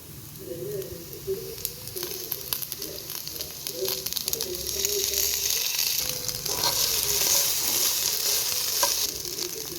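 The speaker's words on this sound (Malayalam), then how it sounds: "നല്ലോണം പൊരിഞ്ഞ് വരുന്നുണ്ട് കേട്ടോ" Soya chunks fry in a pan with a fairly quiet, steady sizzle that swells in the second half, with scattered clicks of stirring and a faint voice in the background.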